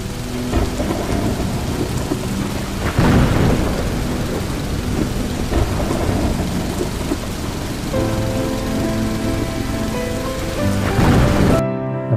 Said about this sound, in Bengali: এরপর মুহূর্তেই বৃষ্টি